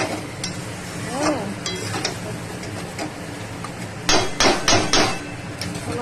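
Meat is stir-fried down in a pan until its water cooks off, with a constant sizzle broken by sharp scraping and knocking strokes of the spatula that grow louder and cluster toward the end, with no voices.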